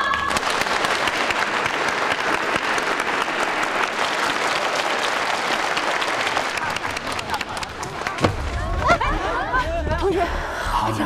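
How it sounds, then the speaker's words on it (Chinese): A classroom audience breaks into dense, sustained applause for about eight seconds, with some chatter and snickering mixed in, before the clapping stops and voices take over. "鼓掌。"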